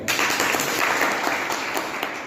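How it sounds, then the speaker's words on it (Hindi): An audience at a meeting in India claps together in a steady, full burst of applause lasting the whole moment, close and fairly loud with no talking over it. "इनकम बढ़ानी हो तो तालियां बजाओ अपने के।"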